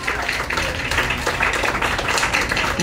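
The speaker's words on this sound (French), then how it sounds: "On peut applaudir même." Audience applause at a health-themed gathering in Guadeloupe, a dense burst of steady clapping from a crowd lasting a few seconds.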